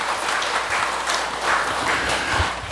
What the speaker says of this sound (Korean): 우리 시장에 가시는데 박수 한번 쳐주세요.